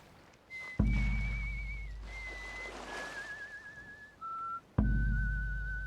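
Sad theme music from the pirate game Sea of Thieves, with a clear wavering whistled melody in several sustained phrases over deep drum hits that land twice, all fairly quiet.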